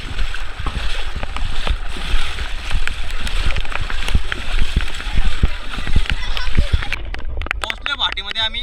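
A small boat pushing through the water at full speed, with continuous rushing and splashing water close by while people talk over it.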